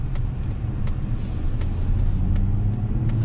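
A 2024 Mazda CX-90 being driven, with a steady, close low rumble of engine and road noise that holds evenly throughout and has no talking over it.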